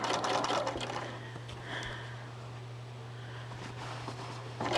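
A sewing machine runs along a quilt's binding in short bursts of rapid stitching at the start and end, with a quieter steady hum in between.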